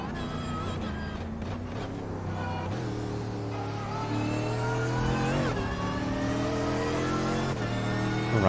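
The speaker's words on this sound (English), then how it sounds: "It looks like he's short shifting here, not revving the engine up." A GT3 race car engine at Road Atlanta heard on board, revving up through the gears with short shifts and rising pitch sweeps, steady and fairly loud, with no voices.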